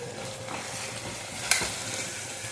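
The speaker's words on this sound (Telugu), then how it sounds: "పచ్చిమిర్చి, మసాలా అది అల్లం వెల్లుల్లి పేస్ట్ అంతా వేగిపోయింది కదండి." Onion, ginger-garlic paste, green chillies and masala fry in a pan for bagara rice, giving a steady close sizzle with a brief louder scrape of stirring midway.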